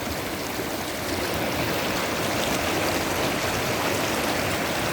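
A clear, shallow, rocky river babbles steadily and close by, a dense continuous rush of water over stones with no voices.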